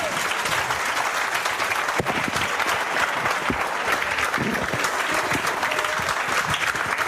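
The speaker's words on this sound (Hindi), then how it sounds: "इनके पिताजी के लिए जोरदार तालियां बजाओ।" A crowd gives a sustained, loud round of clapping for a young man's father at a Hindi-language felicitation event celebrating job selections, the applause steady with a few sharper claps standing out.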